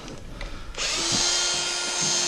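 A power drill driving screws into a second layer of half-inch drywall sheets in a hallway, a close whirring run of about a second and a half after a short quiet lead-in.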